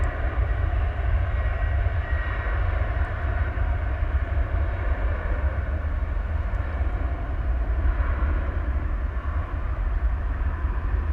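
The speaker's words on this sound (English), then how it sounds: "Here goes the A300" An Airbus A300 jet takes off from DFW Airport at night, heading to Ontario, California, giving a steady, loud, broadband engine roar that holds evenly throughout.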